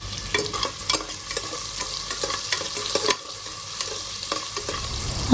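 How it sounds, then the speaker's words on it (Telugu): Big onion cut into cubes frying in a pan for mushroom rice, a loud, close sizzle with frequent stirring scrapes and clicks, no speech. "ఒక బిగ్ సైజ్ ఆనియన్ తీసుకొని ఇలా క్యూబ్స్గా కట్ చేసుకుని ఫ్రై చేసుకోవాలి"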